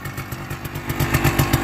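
A two-stroke motorcycle engine runs up close in cold weather, a loud, steady, rapid ringing putter with evenly spaced pulses, no voices over it.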